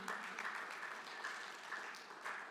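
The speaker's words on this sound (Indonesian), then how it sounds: "Boleh kasih tepuk tangan buat Anda yang sudah melayani." A church congregation at ICC IFGF Bali claps in a soft, steady patter that sounds faint and distant throughout.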